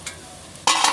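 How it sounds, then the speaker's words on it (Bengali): Vegetable fritters (bora) fry in a pan at home, a quiet hiss that turns sharply louder into a bright sizzle partway through, as if fresh batter hits the hot oil. "আর তার সাথে দেখো এখনো বড়া ভাজছি"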